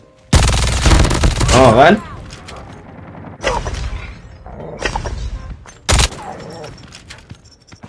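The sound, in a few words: MG42 machine gun firing in a video game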